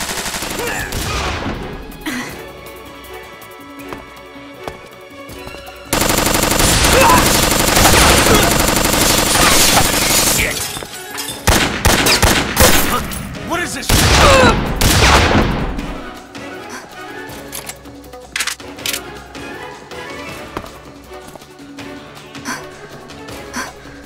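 Video game gunfire from Metal Gear Solid: loud sustained automatic bursts with dense rapid shots, a brief pause, then further heavy volleys and scattered trailing shots and debris, no talk.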